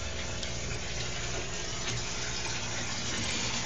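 Water pouring steadily into an aquaponic sump, a dense continuous rush and splash close by, filling the whole stretch without pause and with no voices.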